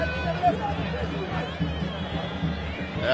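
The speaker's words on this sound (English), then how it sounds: "Part of the crowd here at Rufaro Stadium, not a very big crowd" A modest football crowd murmurs at Rufaro Stadium during a Caps United versus Ngezi Platinum Stars league match, a low steady hubbub of distant voices and chatter with a commentator talking over it.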